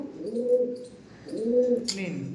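Naptha breed pigeons coo up close in two drawn-out, rising-and-falling calls, each about a second long, separated by a short pause, with a faint chirp near the end.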